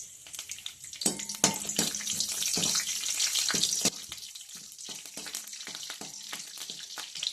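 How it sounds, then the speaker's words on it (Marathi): Curry leaves are dropped into a small amount of hot oil and crackle and sizzle loudly at close range, with sharp popping bursts early that settle into a softer, steady fry. "तेल गरम झालेलं आहे, तर कढीपत्ता टाकून घेते."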